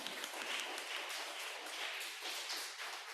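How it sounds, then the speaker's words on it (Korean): A church congregation at a Sunday worship service applauds together in welcome, a dense, steady wash of many hands clapping that stays loud and even throughout, with no voices over it. "환한 미소와 뜨거운 박수로 환영하도록 하겠습니다"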